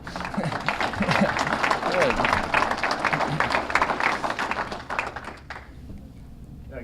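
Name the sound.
audience applause and clapping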